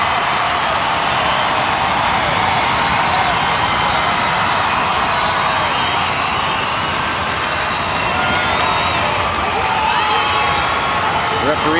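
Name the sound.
stadium crowd at women's football match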